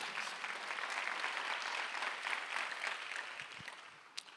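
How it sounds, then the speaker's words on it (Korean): A church congregation applauding during a Sunday worship service, many hands clapping in a broad, even patter that fades slightly toward the end, ending in one sharper clap. "박수를 한번 해주세요."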